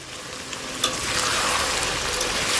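Chicken curry fries in oil with a steady, fairly loud sizzle that swells slightly, broken by a couple of brief stirring clicks.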